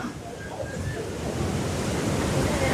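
Fast river water rushes near Huka Falls by Lake Taupo, New Zealand, a loud steady roar of churning flow heard close, with wind buffeting the microphone.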